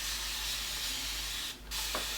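A handheld spray bottle filled with plain water mists tangled curly hair during finger detangling, giving one short, close burst of fine hiss against a steady background hum.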